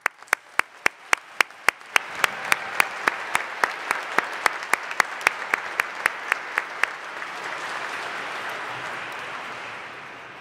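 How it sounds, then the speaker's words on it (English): Audience at a School of Nursing hooding and recognition ceremony in a chapel: a few sharp individual claps first, then steady rhythmic clapping over a rising wash of group applause that swells and continues alone to the end. "Again, a round of applause for everyone."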